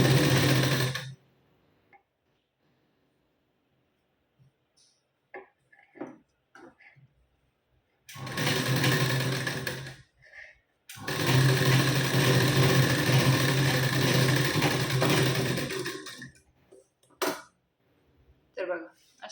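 A sewing machine stitches a folded waistband strip onto a katori blouse in short, loud, steady runs, broken by quiet pauses and a few brief handling sounds.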